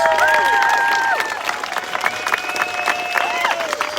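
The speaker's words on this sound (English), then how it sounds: "So let's give them a big round of applause." Crowd applause with cheering at a political gathering, dense continuous clapping under sustained whistles and shouts, loud and steady before easing slightly.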